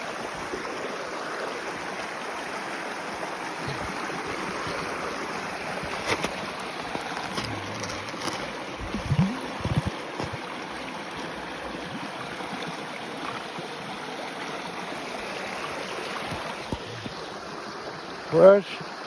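A glacier-fed creek flowing outdoors, a steady broadband rush of running water heard fairly evenly throughout, with a few brief knocks and handling noises near the end.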